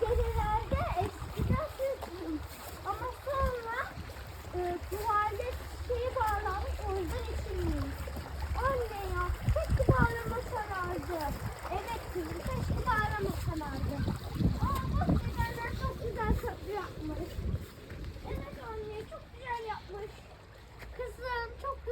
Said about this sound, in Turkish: Bu ne çok güzel dere.